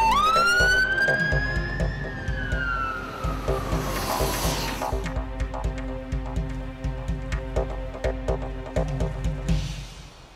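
An ambulance siren wails with a rising then falling tone, followed by rhythmic pulsing sounds against a steady musical background.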